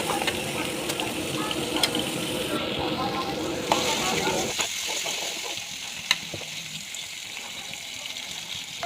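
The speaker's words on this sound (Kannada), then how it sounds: "ಒಂದು ಟೊಮೊಟೊ ಮತ್ತು ಒಂದು ಈರುಳ್ಳಿ ಹಾಕಿ ಫ್ರೈ ಮಾಡಿ" Carrot, tomato and onion fry in a pan with a dense, close sizzle that is loud at first and then settles to a quieter crackle, with occasional clinks of a stirring utensil.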